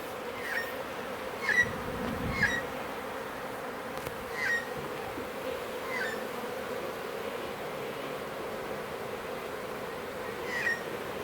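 A captured bee swarm hums faintly and steadily outdoors on a windy day, with scattered individual bees buzzing past close by and a low rumble of wind underneath.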